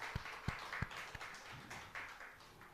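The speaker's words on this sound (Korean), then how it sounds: "영광의 박수 드리겠습니다." Congregation applause in a church service, a few distinct nearby claps at the start over a softer, thinner background of scattered clapping that continues quietly, with no speech.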